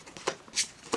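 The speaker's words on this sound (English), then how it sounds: "So I did quickly shuffle it again just to make sure." A Yu-Gi-Oh! Dark World card deck is shuffled by hand, a few quick soft riffling bursts close by, brief and fairly quiet.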